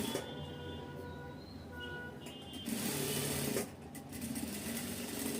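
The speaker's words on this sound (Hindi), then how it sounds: "इसे सिर्फ आपको सीधी सिलाई लगानी है" A sewing machine runs a straight seam along a 1.5-inch blouse strip, a steady close mechanical whir that shifts slightly in pace and pitch as it stitches.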